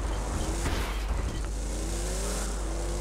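Continuous engine drone of a car driving in the video game Borderlands 2, steady and fairly loud, with slight pitch shifts as it accelerates.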